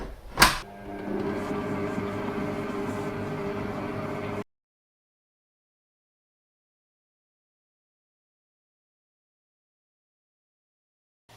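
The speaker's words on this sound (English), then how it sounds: "at a very slow speed, we're going to mix our butter and icing sugar" Electric mixer beating butter and icing sugar for butter icing at slow speed, a steady low whirring drone after a brief clunk at the start, running about four seconds before stopping abruptly into silence.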